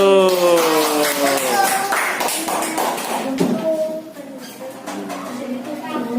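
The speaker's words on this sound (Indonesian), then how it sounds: "Tepuk tangan untuk kelompok 1." Classroom applause for a student group after their presentation: steady, close claps mixed with children's voices calling out, loud throughout and easing slightly toward the end.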